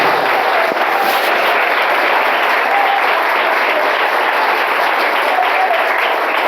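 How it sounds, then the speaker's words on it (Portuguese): A church congregation claps for Jesus with dense, unbroken applause, loud and even throughout, many hands close together with no gaps or voices over the roar. "Bate mais palmas para Jesus"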